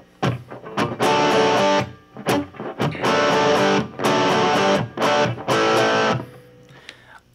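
Electric guitar played through a small, inexpensive amp with moderate gain in a rock rhythm, loud chopped power chords in bursts with short gaps between phrases.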